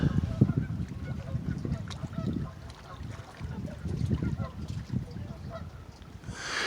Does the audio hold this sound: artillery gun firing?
no